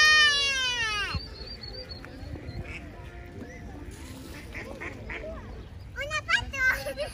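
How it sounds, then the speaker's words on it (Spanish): Ducks quack in a park pond, several sharp nasal calls near the close, while a child and adults chatter excitedly throughout. "¡Una pato!"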